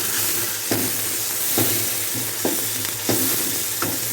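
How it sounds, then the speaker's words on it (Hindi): Ginger, garlic and green chili paste masala fries in a pan, a loud close sizzle with periodic scrapes of a spoon stirring it at a steady pace, no speech. "अब हम मसाले को अच्छी तरह फ्राई करेंगे।"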